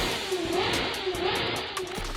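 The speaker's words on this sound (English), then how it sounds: "they wake up to the sound of their neighbor revving his car in an open garage" A neighbor's car engine revs inside an open residential garage, making a loud, steady, droning roar that holds without a break throughout.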